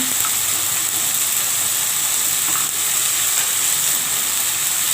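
Chili paste dropped into hot mustard oil gives a steady, loud hiss of sizzling that runs unbroken and close by, with no talking.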